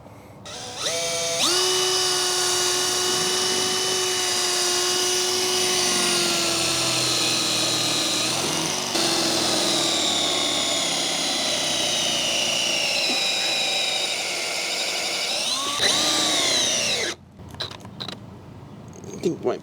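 A drill bores through a fence with WD-40 lubricating the bit, a loud, steady high-pitched whine with strong harmonic tones that holds for about fifteen seconds before cutting off into scattered clicks and handling noise.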